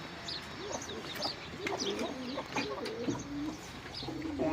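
Chickens on a family farm cluck and murmur in soft, irregular bursts, fairly close, with quiet background ambience.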